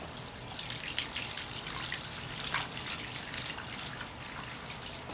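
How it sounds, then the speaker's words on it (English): Water bubbles and trickles continuously from a bird bath converted into a water feature with an LED ring, a steady close splashing wash with no talking. "So it more or less bubbles up"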